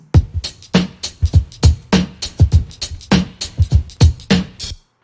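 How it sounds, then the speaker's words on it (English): A punchy drum loop repeats with a steady rhythm of kicks and snappy hits, then stops abruptly near the end. "So the drum loop sounds like this."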